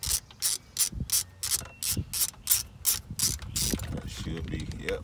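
A hand ratchet works a bracket bolt loose under a 2012 Honda Accord during a starter replacement, giving about a dozen quick, sharp ratcheting bursts in a steady back-and-forth rhythm, close and clear with no voices.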